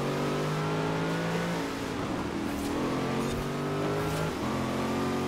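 A 700.5-horsepower Corvette in Forza Horizon 4 revs and accelerates steadily, its engine tone climbing and shifting through gears, loud and continuous without pause.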